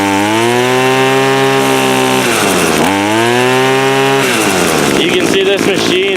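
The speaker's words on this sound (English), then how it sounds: "we'll rev it up here for you" Hitachi two-stroke string trimmer engine, warmed up, revving hard close to the mic: a loud, buzzing whine that climbs and dips in pitch through several throttle pulls, with a brief voice near the end.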